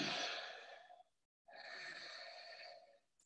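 Deep breathing during an Ashtanga yoga class: two long, soft breaths are heard close up with a brief silent pause between them, and no talking.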